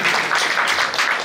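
Audience applause at a school's annual function, a dense wash of many hands clapping steadily and fairly loud throughout, with no voices standing out.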